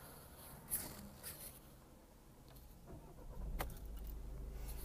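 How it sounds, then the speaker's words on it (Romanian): A facelifted VW Golf with a 1.6 TDI diesel engine and a DSG automatic gearbox starts up quietly. Faint clicks are followed by the engine catching and settling into a soft, steady idle near the end. "Să punem și motorul acum."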